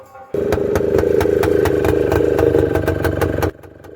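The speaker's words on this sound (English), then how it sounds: "the noise from the exhaust became so loud it sent dogs running from the street" A loud, rough motorcycle engine with a split exhaust silencer blares steadily for about three seconds, with a harsh raspy exhaust note and rapid rhythmic pulsing, then cuts back to a quieter idle.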